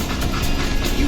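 Train in the Call of Juarez: Gunslinger video game, a steady loud rolling rumble with rail clatter filling the whole short moment, no voices.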